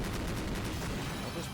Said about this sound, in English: the fierce gunfire had pinned them down, behind the burning car